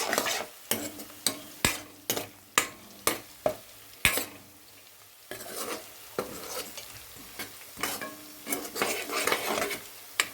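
Curry stirred in a hot pan, a spoon knocking and scraping in a steady run of sharp clicks over a continuous sizzle, loud and close with no voices.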